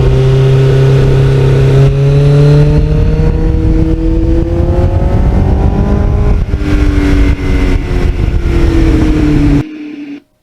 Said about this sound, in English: Just never get sick of going through the gears with this bike